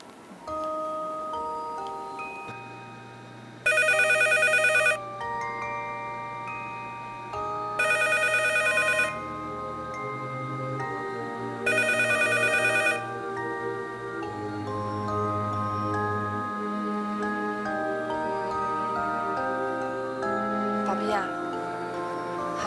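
A telephone rings three times in long, evenly spaced bursts while no one picks up, with music playing underneath and a voice following as the call goes through to voicemail.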